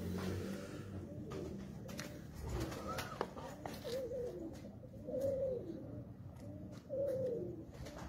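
Several pigeons at a rooftop loft coo in soft, rolling bursts, a few calls rising clearly above a murmur of background noise and distant traffic.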